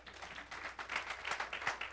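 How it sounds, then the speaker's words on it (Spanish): Church congregation applauding during a Bible study service, a short burst of clapping from a small group, close and without talk. "¿Cuándo le dan un aplauso al Señor?"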